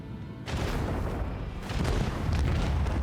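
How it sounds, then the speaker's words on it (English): Macro cannons firing in the video game Warhammer 40,000: Rogue Trader, a dense rumbling barrage of heavy booms that starts abruptly and builds into a continuous roaring volley, loud and close. "Unleash the storm of macro cannons."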